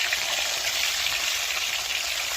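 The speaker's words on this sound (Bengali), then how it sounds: "আর এই যে এখানটায় বসিয়েছি মাছ ভাজা" Pond fish fry in oil on a clay stove, giving a steady, even sizzle that holds at the same level throughout, close up and with no talk.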